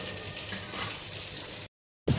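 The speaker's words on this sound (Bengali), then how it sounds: "এবারে ভাজা হচ্ছে মাথাটা" A rohu fish head sizzles and crackles steadily in hot oil in a pan, a continuous bright frying hiss that stops suddenly, followed after a brief silence by a short, louder burst of sizzling.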